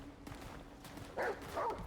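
A dog in the video game Remnant: From the Ashes gives two short, close yips or barks near the end, over faint game ambience.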